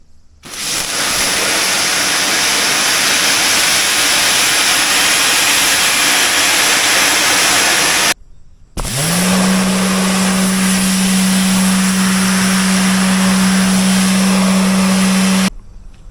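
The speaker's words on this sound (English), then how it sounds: "I'm power washing this whole motor as is" A power washer blasts grease off an Isuzu C240 diesel engine from a Hyster forklift: a loud, steady broadband hiss of high-pressure spray runs for about eight seconds, cuts out briefly, then resumes with the pump's motor whine underneath until near the end.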